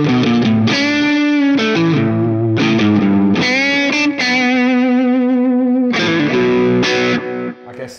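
Electric guitar through a Keeley Aria compressor overdrive pedal, driven chords and sustained notes ringing loud and close, with a long held chord in the middle before further strummed chords and a fading tail.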